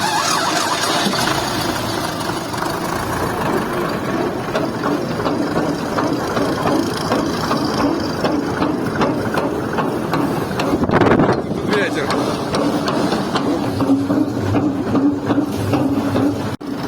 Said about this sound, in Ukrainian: Включили, щоб перемішувало, і зараз воно все розмішується. Бочка трясеться